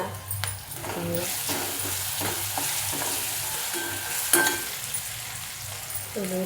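Onion sautéing in a pan for padwal (snake gourd) bhaji, a steady sizzle with repeated metallic scrapes and clinks of a spoon stirring against the pan, no talking.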